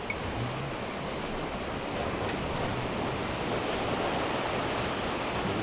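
Sea waves surging around the coastal caves at Charco Manso on El Hierro: a continuous loud roaring wash of surf with swelling pulses, close and unbroken, no voices.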